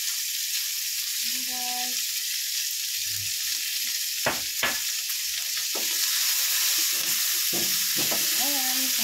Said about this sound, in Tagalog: Sige, gisa na po natin ang ating sibuyas.